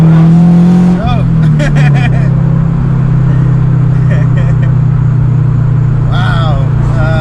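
A supercharged Subaru BRZ launching hard with wheelspin: a loud engine roar climbs in pitch, then settles into a sustained high drone, with brief tire noise and short bursts of speech over it.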